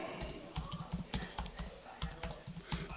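Fingers type on a computer keyboard in a quiet room, a steady irregular patter of soft key clicks with occasional louder taps, close and continuous throughout.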